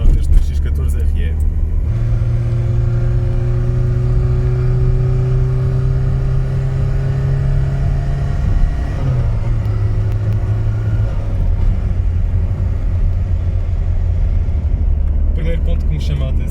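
A Citroën BX 14 RE with its laid-down XY engine idles and runs with a loud, noisy exhaust. The drone is steady and close, shifts pitch slightly partway through, and carries on throughout.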